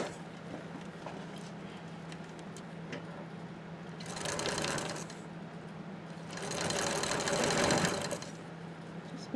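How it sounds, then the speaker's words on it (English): A sewing machine stitches a seam on a bucket backpack, a steady near hum with two louder bursts of rapid stitching, the second longer and stronger. "we're just going to stitch this on at 3/8 of an inch seam allowance"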